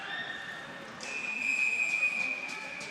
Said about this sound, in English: And the whistle blows as Urim is getting rolling.